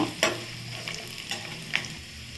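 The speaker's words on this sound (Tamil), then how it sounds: "முந்திரி பருப்பு பட்டை ஏலக்காய் கிராம்பு இதெல்லாம் சேர்த்துக்கோங்க சேர்த்து நிறைய நல்லா வதக்கிக்கோங்க" Cashews, cinnamon, cardamom and cloves sauté in a hot pan, giving a soft, steady sizzle broken by a few sharp spatula scrapes and clinks, close and fairly quiet with no talking.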